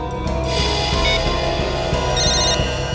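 A telephone rings steadily and close after a number is redialed, a continuous electronic ringing tone over a low background hum, with no voices.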